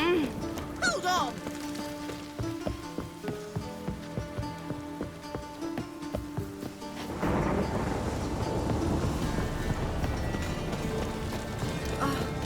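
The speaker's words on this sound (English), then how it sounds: "Rain again." Rain in the video game The Witcher 3: Wild Hunt comes in partway through as a steady, dense hiss, with thunder tagged alongside it. Before the rain, music and voices play, and the downpour continues loudly to the end.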